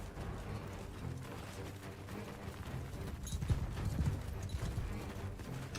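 Horse archers' hooves in Mount & Blade 2 Bannerlord beat out a steady, fairly faint clip-clop of many horses on the move, with a brief whinny-like accent partway through and no talking.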